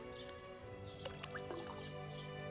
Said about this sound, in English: Pour water into the cauldron while it's raised.